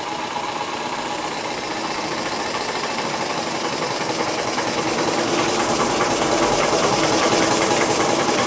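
Scratch-built overtype model steam engine running smoothly, a close steady hiss with fast rhythmic mechanical chuffing and light knocking that builds slightly in loudness, with no talking.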